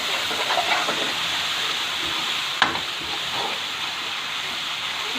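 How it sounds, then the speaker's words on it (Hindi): Masala with soy sauce and chili sauce frying in a pan, a steady close sizzle and hiss with a few soft stirring scrapes and one brief sharp clink midway. "इस मसाले को थोड़ा ज़्यादा भूनना पड़ता है"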